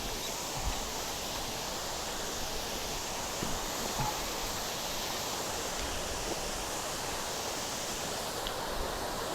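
Mangampeta waterfalls, running with reduced flow, give a steady, even rush of falling water, soft and constant throughout with no voices.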